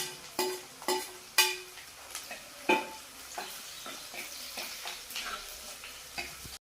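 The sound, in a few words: green chillies frying in pan for Kottayam fish curry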